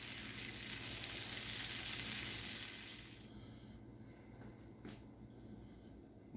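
A Monte Cristo club sandwich sizzles on a Steelmade USA flat top griddle, a steady close frying hiss that is loud at first, then drops to a softer crackle after about three seconds, with a brief scrape partway through.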